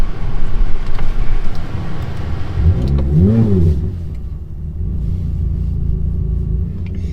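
A Ferrari F430 with a fault, running rough and stalling, idles with a loud, uneven engine rumble, and the throttle is held open for one rising-and-falling rev partway through before the engine settles back to a lumpy idle.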